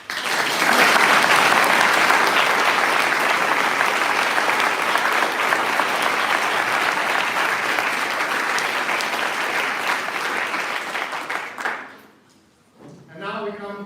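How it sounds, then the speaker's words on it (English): A commencement ceremony crowd applauds its quartet in a long, full, even wash of clapping that fades out near the end. A voice begins speaking afterward. "a round of applause for our wonderful, beautiful"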